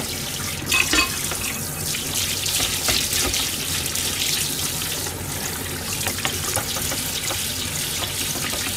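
Tap water runs steadily into a kitchen sink while dishes are washed after cooking, a close, constant splashing rush with small clinks and drips scattered throughout and no talking.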